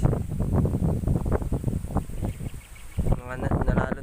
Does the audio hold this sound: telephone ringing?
no